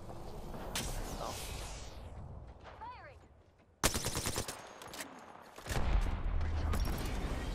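Gunfire in the Apex Legends battle royale, including Peacekeeper shotgun and Disruptor shots, cracking in loud sharp bursts and rapid volleys, with a lull midway before heavy firing resumes alongside game effects.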